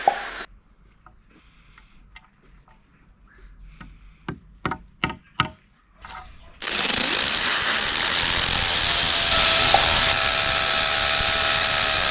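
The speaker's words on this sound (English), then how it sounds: "drill the holes into the wood and into the concrete for the mounting" A few sharp taps and clicks, then a loud, steady power drill grinding continuously at close range for several seconds while drilling holes into wood and concrete.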